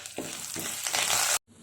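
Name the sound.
tempering spices (mustard, lentils, chillies, curry leaves) sizzling in oil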